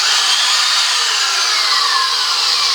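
A power drill bores a hole through a piece of wood during a wheelbarrow repair, a steady loud whine running unbroken close up with no voices.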